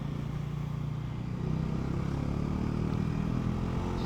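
A Bajaj Pulsar NS400 motorcycle being ridden, a continuous rumbling engine hum with wind noise that swells slightly partway through, steady and close, with no talk.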